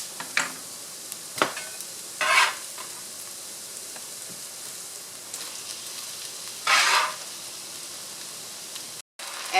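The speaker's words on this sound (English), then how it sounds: "Now we are going to add the loofah." Sliced loofah hits a pan of sautéed translucent onion and sizzles steadily, with occasional louder bursts of frying and stirring scrapes breaking through the constant crackle.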